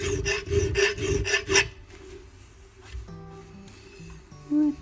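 A double bastard file rasps along a blade edge in several steady strokes during the first half, then trails off into quieter scraping and small clinks.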